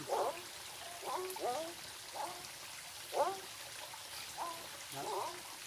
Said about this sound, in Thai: มีแต่เสียงกบเสียงน้ำไหล